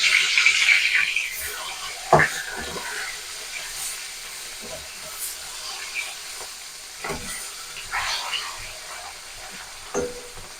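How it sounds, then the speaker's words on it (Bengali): Rohu fish pieces sizzle in mustard oil as they are turned, a soft steady fry broken by sharp clacks of the spatula and brief flare-ups of crackling. "মাছগুলোকে এবার আমি উল্টে দেবো।"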